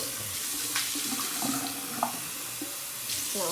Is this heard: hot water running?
yes